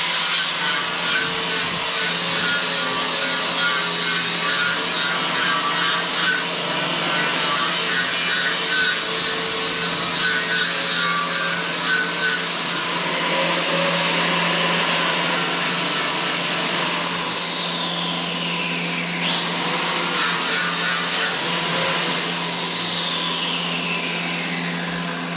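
Angle grinder smoothing plasma-cut edges on a steel chassis frame being cut in half, a steady loud whine running continuously with pitch dips where the disc bites harder, no talking.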